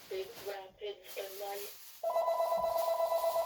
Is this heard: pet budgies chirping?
no